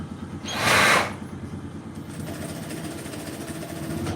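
A sewing machine runs in a tailoring shop, giving a steady close mechanical hum and rapid stitching rattle throughout, with a brief louder burst of noise near the start.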